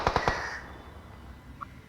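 A gun in a video game fires three quick shots in a row at the start, each a sharp crack, followed by a faint tail and a brief quieter click.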